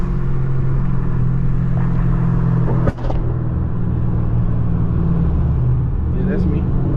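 Dodge Charger R/T with a 5.7 Hemi V8, longtube headers, straight pipe and E85 tune, rumbling loud and steady throughout, with a sharp pop near the middle.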